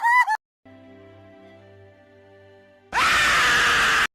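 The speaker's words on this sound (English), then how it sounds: "that's what you get for using the flippy scream sound effect" A cartoon scream sound effect, a short, shrill, warbling cry at the start, followed by a faint tonal hum and then a loud, harsh, sustained blast of noise.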